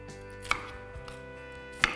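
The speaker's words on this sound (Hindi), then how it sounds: "अब ये प्याज को मैंने टुकड़ों में काट लिया है।" Onion chopped on a board with a knife, a few sharp knocks about a second apart, close and clear with no talk.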